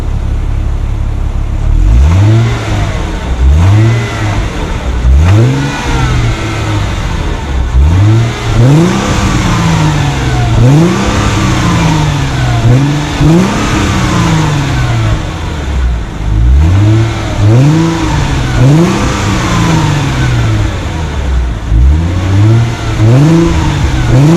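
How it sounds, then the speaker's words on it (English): A warm Mercedes CLK 240 W209 V6 engine with stock exhaust revs repeatedly on a very cold day, each rev rising sharply then falling, loud and close, with a steady idle rumble between the bursts. "let's hear that sweet sounding V6"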